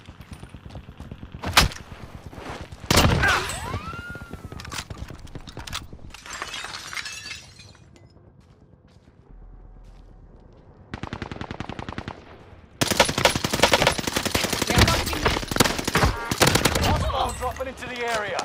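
Video game gunfire in a combat match: bursts of automatic fire, sharp single shots and shattering crashes come and go, loud and close, with heavier sustained shooting in the final seconds and voices calling out in between.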